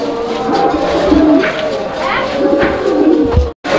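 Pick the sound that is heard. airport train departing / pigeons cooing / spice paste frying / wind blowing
pigeons cooing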